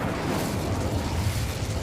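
A fire spell cast in the Hogwarts Legacy video game: a dense, roaring burst of flame that holds steady and loud for its whole length, with no speech.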